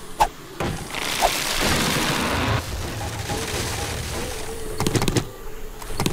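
A landmine blowing up in the survival game 7 Days to Die, a heavy booming blast with a rumbling tail, followed by further sharp thuds and crackling bursts at night.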